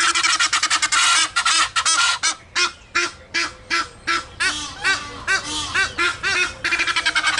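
Ducks quacking loudly and close, a dense flock calling in rapid overlapping bursts that settle into a rhythmic series of separate honking quacks, then rise again into a crowded chorus.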